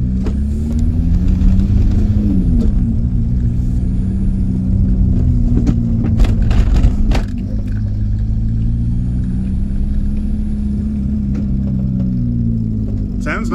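A VW camper van with a swapped TDI diesel engine accelerates hard around a corner, its loud, close engine drone rising and falling in pitch through gear changes, with some rattles from the back.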